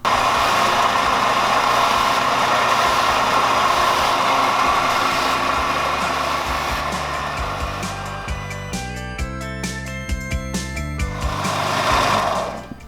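A belt sander runs continuously against a foam puppet shape, a steady whirring motor drone that tapers off as music begins to come in toward the end.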